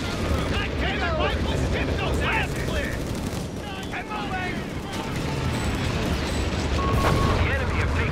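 Battle gunfire in Company of Heroes 3: sustained rifle and machine-gun bursts with booming explosions, dense and continuous, mixed under shouted soldier voice lines.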